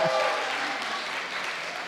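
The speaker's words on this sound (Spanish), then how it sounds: "un aplauso para los que somos últimos" Congregation in a church service breaking into sustained applause, a full, even roar of many hands clapping close by, briefly overlapping a voice at the start.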